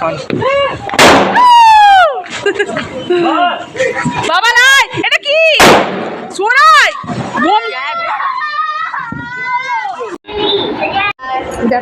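Firecrackers go off on a rooftop on Bhoot Chaturdashi night during Kali Puja, with two sharp, loud bangs amid excited shrieks and people talking loudly.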